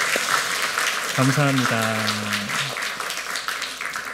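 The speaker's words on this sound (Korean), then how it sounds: "하나님께 감사와 영광의 박수를 한번 올려드리면 좋을 것 같습니다" A church congregation claps in thanks during a year-end Presbyterian service, a broad wash of many hands running throughout while a voice speaks briefly over the middle.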